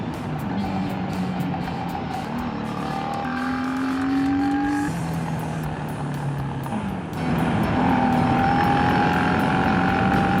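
A motorcycle's exhaust drones loud and steady throughout while riding a forest service road, its pitch rising and shifting with gear changes, rumbling continuously with no talking.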